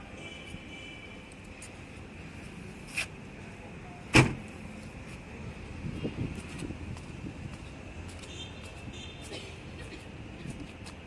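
Hyundai Verna SX(O) IVT tailgate released from the key fob: one sharp click-thunk midway, then a soft mechanical rumble, over a quiet steady background hum.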